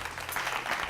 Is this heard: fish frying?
no